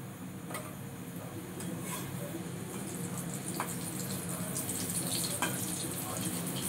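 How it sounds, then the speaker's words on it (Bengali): Bombay duck (lote fish) fingers coated in spiced cornflour fry in hot oil, giving a steady close sizzle scattered with small crackling pops. "এটাকে শুকনো আমি এইভাবে তেলের মধ্যে ছেড়ে দেব"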